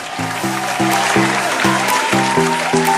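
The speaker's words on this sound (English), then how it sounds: "let's give an outstanding round of applause to our amazing judges" Crowd applause for the judges at the Mr. Pasiklaban 2025 pageant, steady clapping from a large audience over a rhythmic music beat.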